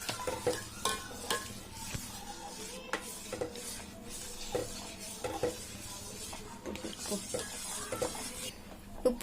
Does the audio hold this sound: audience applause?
no